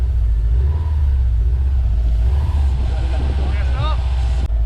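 Catless downpipe exhaust on a car, a loud continuous low-frequency engine rumble throughout, with a voice talking briefly over it near the end.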